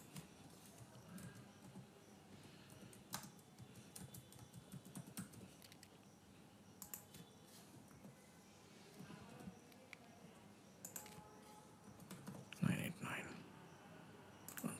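Someone types credit card details on a computer keyboard at a Shopify checkout, a quiet, irregular run of close key clicks with brief pauses, under soft talk.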